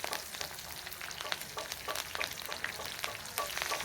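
Shallots and curry leaves sautéing in a pan for a tempering, a steady crackling sizzle with scattered sharp pops and spatters, close and continuous throughout with no talking.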